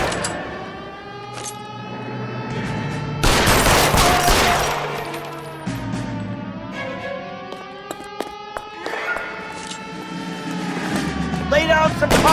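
Gunfire in an L.A. Noire shootout, with bursts and rapid shots crackling over a wailing siren and a car engine, loud and near, while voices call out during the fight.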